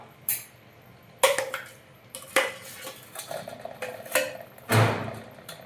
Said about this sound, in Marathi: असा थोडासा मिक्स करून घेणार आहे सगळा मसाला एकत्र